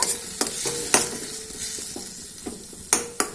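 Tomato pieces fry in a little oil in a pan while a spoon stirs them, giving a soft steady sizzle with several sharp scraping strokes of the utensil against the pan, close and clear, with no talk.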